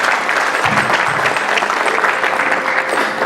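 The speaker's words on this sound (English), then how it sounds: "Let's have a big round of applause for everyone involved." An audience at an Indian ex-servicemen association's 25th anniversary celebration applauds loudly and continuously, a dense, even wash of many hands clapping that holds steady throughout.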